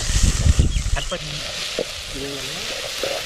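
Onions and tomatoes sauté in a pan for a country-style field crab dish, with a steady, close sizzle and frying crackle that is loudest at the start and runs beneath people talking.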